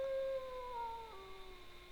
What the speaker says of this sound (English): We hear a wolf howling.